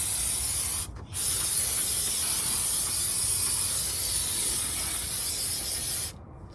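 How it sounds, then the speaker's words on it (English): Brake parts cleaner sprays from an aerosol can onto a car part during an oil change, a loud, close, steady hiss that runs almost continuously, broken by one brief pause near the start and cutting off near the end. "You're gonna grab brake parts cleaner or something along the lines."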